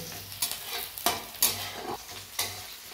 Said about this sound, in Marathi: तुम्ही बघू शकता कांदा चांगल्या प्रकारे परततोय।